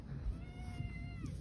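A young female cat gives one drawn-out, clear meow close by, its tone wavering slightly as it trails off over a quiet indoor background.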